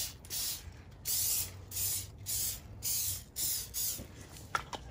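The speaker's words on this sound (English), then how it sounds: "This is extra virgin olive oil spray. And I'm gonna spray that skin down." Extra virgin olive oil spray misted onto raw turkey skin before smoking on a Weber kettle: about seven short hissing bursts in a steady rhythm, close and clear, with no talk.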